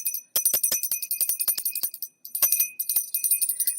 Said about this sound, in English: we always ring the bell for service